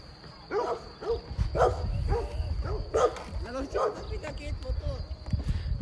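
Several dogs bark and yip in quick, repeated bursts close by while being sprayed with water, with a person talking over the barking.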